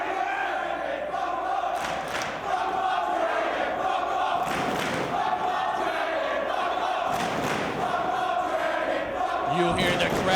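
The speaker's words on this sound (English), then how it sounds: "You hear the crowd firmly behind Bryan Danielson in this one" A large professional wrestling arena crowd roars and chants continuously at a match, with swelling cheers throughout and a commentator talking over the noise.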